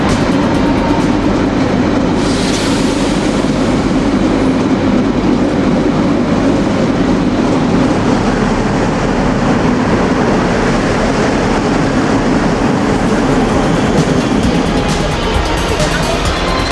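A train rumbles loudly and continuously at an Auckland rail station, a dense steady roar of wheels and carriages with a brief high whine early on, close and unbroken for the whole stretch.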